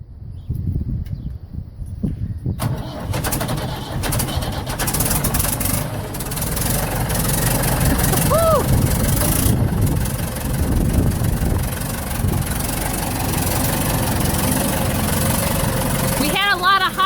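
A Ford 755 B backhoe diesel engine idles steadily after a cold start, a loud continuous low rumble that stays near and constant throughout, with a brief quieter stretch at the very beginning.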